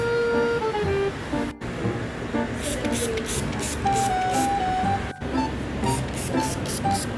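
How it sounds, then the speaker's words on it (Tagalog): An aerosol can sprays a scent indoors in a long continuous hiss with brief pauses, under loud talk and other background sounds. "kailangan natin mag-spray nito para talaga namang bongga"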